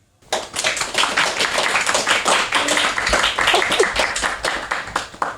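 An audience breaks into applause after a spoken-word poem, many hands clapping in a loud, sustained burst that starts suddenly and carries on evenly for several seconds.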